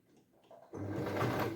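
A sewing machine stitches a silk skirt and blouse, starting up after a quiet moment and then running steadily close by.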